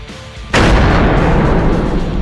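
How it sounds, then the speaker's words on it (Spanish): A gunfire and explosion sound effect from a zombie apocalypse story erupts after a short quieter lead-in. A sudden loud blast is followed by a dense, sustained roaring rumble with no talking. "A la señal de la primera ráfaga de disparos, una gran explosión provino del edificio."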